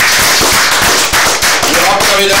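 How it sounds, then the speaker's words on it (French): A large audience at a ceremony bursts into very loud, dense applause, with sharp individual claps crackling through a constant roar of hands. "merci de l'applaudir très très fort"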